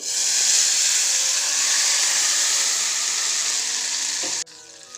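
Hot cumin tempering, fried until crackling, is poured onto a spicy chutney for idli. It gives a loud, close, continuous sizzle and hiss for about four and a half seconds, then drops off abruptly to a quiet simmer.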